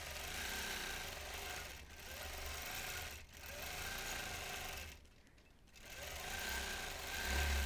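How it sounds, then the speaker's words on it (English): A sewing machine runs in freehand quilting, a steady close whir that pauses briefly three times and resumes each time. "I'm going to quilt a little while to get back in the groove of this"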